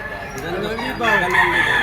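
Stag gamecock crowing at a livestock market in Padre Garcia, Batangas, one loud, close, drawn-out crow over a busy background of market noise.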